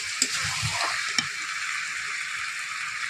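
Broiler chicken and potato pieces sauté in a pan for a village-style curry, giving a steady close sizzle with a couple of sharp spoon knocks against the pan early on and no talking.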